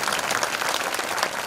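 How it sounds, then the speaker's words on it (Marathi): A dense, even wash of clapping from an audience at a Marathi kirtan gathering, steady and fairly close throughout the short stretch. "टाळी वाजवा त्यांच्याकडे"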